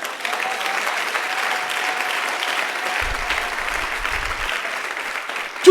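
A church congregation applauds steadily during a sermon, a dense, loud and continuous wash of clapping that holds level for several seconds, with faint voices mixed in.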